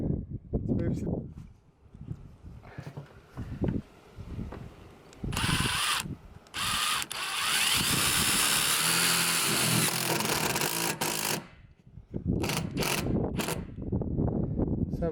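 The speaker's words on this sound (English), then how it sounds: "So we're just doing 3 screws on each side." A power drill drives screws into the roof of a Sprinter van conversion while solar panels are installed, heard in several whirring bursts, one long sustained run, with people talking between them.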